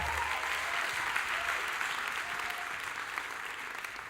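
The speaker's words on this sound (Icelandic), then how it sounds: "Gefum honum gott klapp" An audience at a school music contest applauds a guitarist with steady, dense clapping that holds evenly throughout, a faint murmur of voices mixed beneath.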